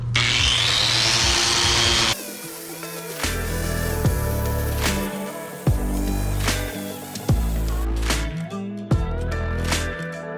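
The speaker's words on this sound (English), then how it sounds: "This is a thick wire wheel on a grinder" A thick wire wheel on an angle grinder strips paint from a Honda CBR 600F3 motorcycle, giving a loud, harsh abrasive whir for about two seconds before cutting off.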